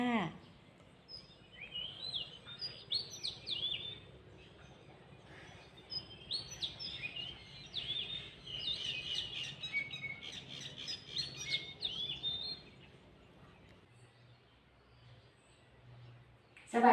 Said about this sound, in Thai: ได้ยินเสียงนกร้องอยู่ที่ต้นไผ่